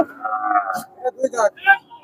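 A bull lows at a busy cattle market, a single drawn-out moo near and fairly loud, followed by a few shorter bellowing calls.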